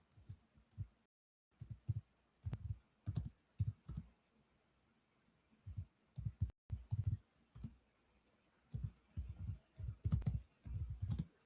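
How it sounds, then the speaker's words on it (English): Fingers type on a computer keyboard in quick bursts of close, soft clicks and thumps separated by short pauses. "I don't even like typing stuff like this into the damn thing."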